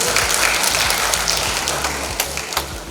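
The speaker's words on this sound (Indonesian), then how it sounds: "Tepuk tepuk tangan untuk Mas Amin." Dense, steady applause from an audience at an anniversary ceremony in Malang regency, with many hands clapping at once for the whole short stretch and no talk over it.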